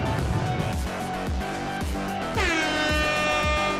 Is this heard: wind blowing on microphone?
no